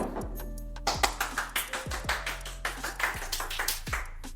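A small group of people applaud themselves at an office gathering, giving sharp, fairly sparse claps in an uneven rhythm, close and clear with no one speaking over them.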